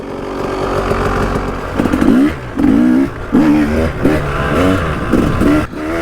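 A KTM 300 EXC two-stroke dirt bike fitted with an FMF expansion chamber and standard silencer revs up in a series of sharp, loud throttle blips over a buzzy idle, close by.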